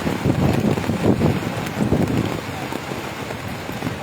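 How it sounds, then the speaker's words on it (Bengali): Heavy rain and gusting wind pour down on a Friday cattle market in Pabna, where cows for Qurbani are being sold, as a dense, steady roar throughout. "আজ পাবনায় প্রচুর বৃষ্টি, আল্লাহ পাকের রহমতের বৃষ্টি হচ্ছে।"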